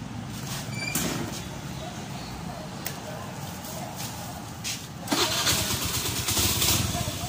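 A Suzuki Nex 110 motorcycle engine fitted with a two-way alarm starts up near the listener, quickly settling into a steady running rumble with a louder rise partway through, heard on its own.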